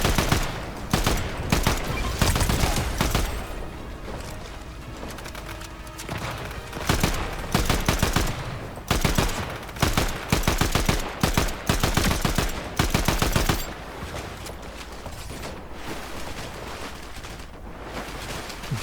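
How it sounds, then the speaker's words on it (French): Gunfire in the video game Fortnite, with rapid bursts of automatic shots and repeated loud cracks that run almost without a break and fade a little near the end. "Qui c'est qui me tire dessus là?"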